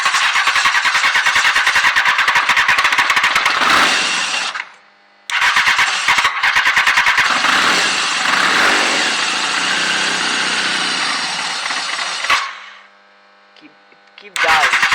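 Honda CBR 929 Fireblade motorcycle engine with a fuel pump problem cranking and catching, running loud and close, cutting out briefly, restarting, then dying again near the end.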